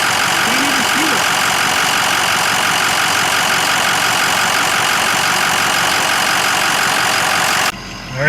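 Diesel truck engine idling smoothly after a fuel filter and Blue Spring kit change, a loud, steady, even rumble close by, continuous until it drops away near the end.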